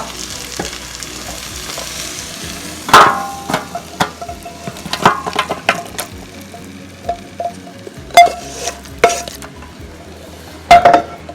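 Cooked chicken for a spicy chicken fry is moved into a pan, with sharp clanks and scrapes of utensils against cookware over a low background sizzle, coming in irregular bursts.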